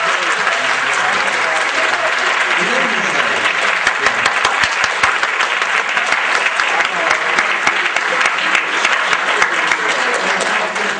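An audience at a 2012 Quran recitation contest for boys gives the winner steady, dense applause, loud and close, with voices faintly mixed beneath the clapping.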